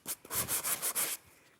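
Sanding block rubbed back and forth over embossed card, about six quick, even scratchy strokes in a steady rhythm, close and fairly loud, then stopping into near silence.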